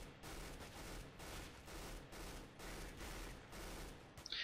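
Automatic rifle fire from Counter-Strike: Global Offensive comes in about four short, evenly spaced bursts, each a rapid rattle of shots with brief pauses between. The shots are faint and there is no talk.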